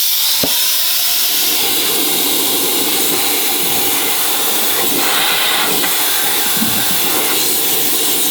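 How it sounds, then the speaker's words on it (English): Steady loud rush of air streams from the bottom hole of a Virutex SVN460 multiple fastening system with a 1/4 inch plywood board in place, a continuous broadband hiss with a couple of faint knocks. "There's a lot of airflow going out in this direction from that hole on the bottom."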